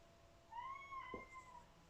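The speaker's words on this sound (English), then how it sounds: "Sorry, that's my cat." A cat gives a single rising and falling meow, faint and close, in an otherwise quiet room.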